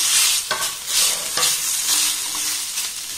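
Ingredients being stirred and fried in a little oil in a pan, with steady sizzling broken by a few scraping stirs of a spatula, close and fairly loud with no talking.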